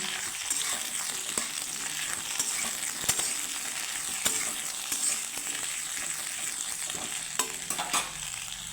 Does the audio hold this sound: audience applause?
no